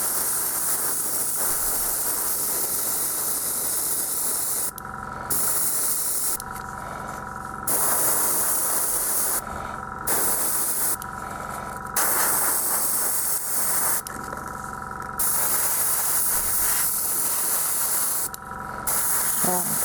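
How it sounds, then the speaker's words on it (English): A workshop air compressor hisses steadily and loudly throughout, its broadband rush broken by several short pauses and restarts, with no voices over it. "the noise in the background, this is my compressor"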